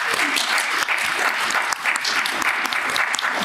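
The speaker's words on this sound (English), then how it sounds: "So a very big round of applause." Audience applause at the close of an academic congress opening plenary session, dense steady clapping filling the whole stretch with no talk over it.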